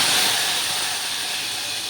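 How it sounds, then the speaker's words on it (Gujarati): Chopped tomatoes hit a hot pan of tomato curry seasoned with asafoetida, giving a loud, steady, hissing sizzle that fades slightly over a couple of seconds, with no voices over it. "ત્યારબાદ આપણે આ ટમેટાને આ શાકમાં આપણે નાખી દઈશું."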